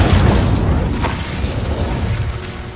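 Fire spell cast in the Hogwarts Legacy video game: a loud, dense burst of crackling, rumbling magical effect that roars continuously with a brief sharp flare in the middle, alone without talk.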